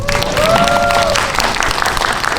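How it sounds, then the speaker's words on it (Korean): Loud, sustained applause fills a Megabox cinema hall at a stage greeting for the film The Book of Fish, with a brief tonal squeal rising over the clapping early on. "박수 한번 주세요"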